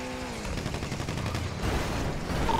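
Gunshots ring out in a video game, with a dense, steady stream of firing sounds at a fairly constant level under game ambience, with no clear individual pauses.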